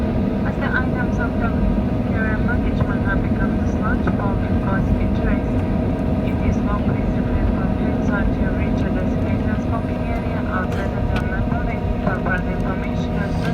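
Ryanair Boeing 737-8AS with winglets sits on the ground at London Stansted after landing, its jet engines giving a steady loud cabin roar and whine, with people talking over it.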